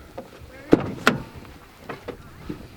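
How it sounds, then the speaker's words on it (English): The door of a Mercedes-Benz eSprinter electric van unlatches with two sharp clunks close by, followed by a few softer knocks against a quiet background. "Door opens nice and wide"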